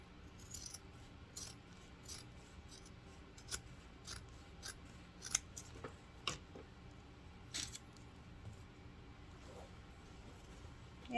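Scissors trimming paper for a homemade grocery bag, a string of quick crisp snips in irregular rhythm, close but faint against a quiet background with no talk.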